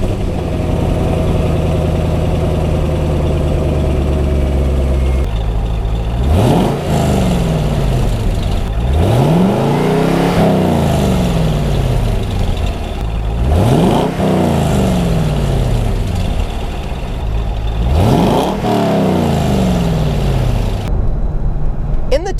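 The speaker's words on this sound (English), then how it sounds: "a sound clip of me revving it a little bit, and then some active driving sound" A Corvette C5 Z06 engine with Borla Stinger exhaust idles low, then revs repeatedly in rising and falling surges with a throaty exhaust, close and loud.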